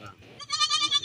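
A Beetal goat bleats at a bakra mandi goat market in Jhelum, a short wavering cry rising after a brief lower call, heard close and fairly loud.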